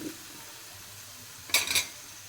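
Green beans stirred and fried in oil in a pan for a Kerala-style payar mezhukkupuratti give one short burst of sizzling and scraping, close and moderately loud, against a quiet background.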